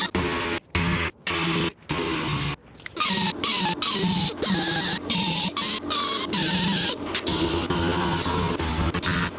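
Angle grinder shaving trim nibs off a van body, a loud close whining screech in repeated bursts with brief pauses early on, then running near-continuously with a harsh, scraping tone.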